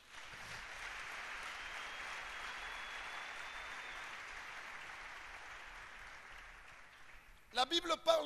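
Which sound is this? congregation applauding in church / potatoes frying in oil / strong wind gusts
congregation applauding in church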